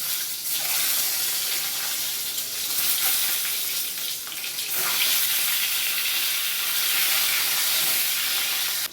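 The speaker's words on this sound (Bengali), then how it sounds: "তেলটা গরম করে নিয়ে আগে ডিমগুলো ভেজে নিচ্ছি।" Eggs fry in hot oil for a Bengali spicy chicken curry, a loud, dense sizzle that surges and settles, close to the pan with no talking.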